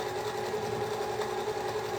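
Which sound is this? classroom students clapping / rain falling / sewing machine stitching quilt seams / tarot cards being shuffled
sewing machine stitching quilt seams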